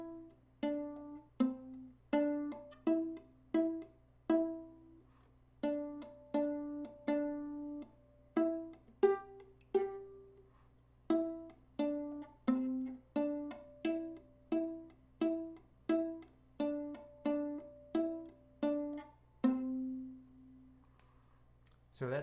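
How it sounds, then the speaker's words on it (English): Solo viola plays Mary Had a Little Lamb as a beginner lesson tune, with slow, evenly bowed single notes in a steady rhythm, clear and close in a quiet room. "So that's Mary Had a Little Lamb for viola."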